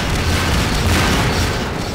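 Loud continuous booming and blasting from gunfire in the video game Half-Life 2, dense low rumble with overlapping bursts over about two seconds.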